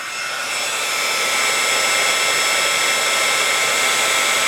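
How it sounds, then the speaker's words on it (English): A loud, steady blowing whir of a heat tool drying paint roars continuously at close range with no voices. "Sorry guys for the noise, my heat tool is kind of loud."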